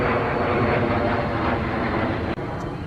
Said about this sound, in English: They were looking up at the plane flying over.